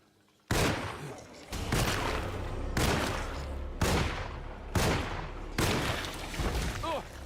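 Heavy gunshots ring out one after another in Alone in the Dark as monsters are shot, six loud, booming blasts spaced about a second apart, each trailing into a long echoing decay.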